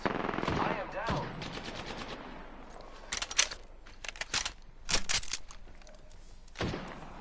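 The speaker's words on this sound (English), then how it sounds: "I am taking fire, friends." Gunfire in the Apex Legends video game on PS4, rapid automatic bursts and sharp single shots in several clusters with pauses between, loud and close.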